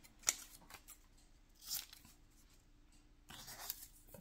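Scissors snip paper into pieces for a junk journal, a few short crisp cuts with quiet shuffling between them, close and fairly soft.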